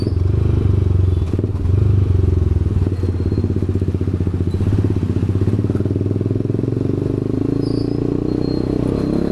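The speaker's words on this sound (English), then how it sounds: "This exhaust is too loud, guys, to be honest." A TVS Apache RR 310 motorcycle with a full-system Akrapovic exhaust idles and burbles loudly with a deep, rumbling, crackling exhaust note, steady and close throughout.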